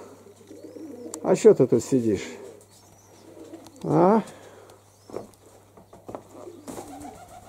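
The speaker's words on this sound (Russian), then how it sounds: "Вот малыши, голуби." Pigeons cooing inside a dovecote, low soft coos in two clear bursts with quieter calls between, close by, while someone talks to the birds.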